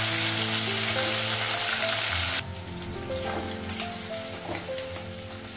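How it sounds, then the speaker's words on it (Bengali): A bay leaf and green chillies hit hot oil, setting off a loud, close sizzle that drops abruptly to a softer crackle, with a low hum running underneath. "তেজপাতা দিলাম"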